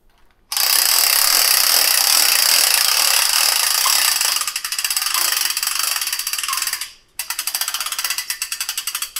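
A flathead screw is turned out on a quantum testbed's 4 Kelvin stage. A loud, close, steady whirring buzz runs for several seconds, shifts into a rapid ratcheting clatter, briefly stops, then resumes.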